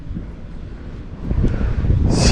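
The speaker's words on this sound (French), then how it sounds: "Il y a du vent aujourd'hui." Low, rumbling wind buffeting the microphone at a boat anchorage, steady at first and growing stronger and louder toward the end, with no voices.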